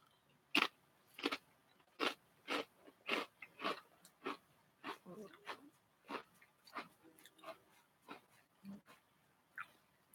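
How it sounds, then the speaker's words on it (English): Crunchy chips are chewed close to the mouth, a regular run of sharp crisp crunches with brief pauses between bites, fairly quiet overall. "I'm still munching."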